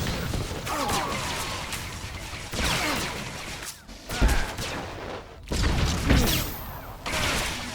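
Bursts of blaster gunfire from a firefight in Star Wars: The Old Republic on Tatooine, dense rapid volleys with crashes and impacts, loud and continuous with short pauses between salvos.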